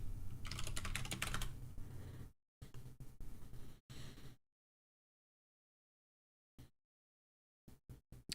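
Fast, clattering keystrokes on a computer keyboard as a Linux install command goes into an AlmaLinux machine, a dense burst for about two seconds, then shorter clusters broken by pauses and a few isolated taps near the end.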